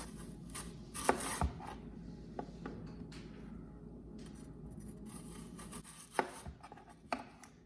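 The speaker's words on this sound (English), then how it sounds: "we're going to start chopping our apples up." Knife chopping fresh apples into slices beside the core for a homemade apple pie, a few distinct close cuts landing irregularly against a quiet background, with no talking.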